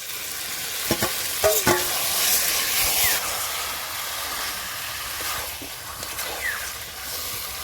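Coriander-marinated chicken frying in a pan, a strong hiss of sizzling oil with a few sharp scraping stirs of a spatula early on, fading to a steadier sizzle.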